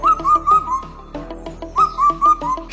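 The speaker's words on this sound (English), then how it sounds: "This is a four-note cuckoo." A four-note cuckoo calls in repeated whistled phrases of four descending notes, clear and fairly close, sounding twice over a faint background.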